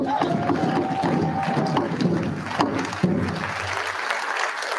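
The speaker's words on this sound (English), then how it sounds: "How about a round of applause?" Applause from the audience at a tribal State of the Nation gathering: steady, dense clapping from a crowd throughout, fading slightly near the end.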